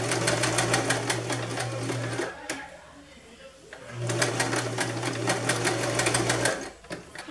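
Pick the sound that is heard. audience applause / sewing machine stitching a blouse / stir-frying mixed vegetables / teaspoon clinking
sewing machine stitching a blouse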